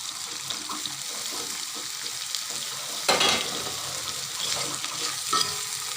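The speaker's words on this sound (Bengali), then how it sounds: "নেড়ে চেড়ে মুরগির বুকের মাংসটা দিয়ে দেবো।" Chicken breast being stirred and fried in a pan with chili powder and roasted cumin powder: steady close sizzling with a louder scrape of stirring partway through.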